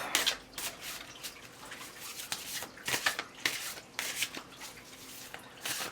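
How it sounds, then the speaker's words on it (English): A Rhythm & Soul tarot deck is shuffled by hand, giving soft papery riffles and flicks in irregular bursts, close and fairly quiet, with no speech. "Wake it up, give it a shuffle, see what it has to say"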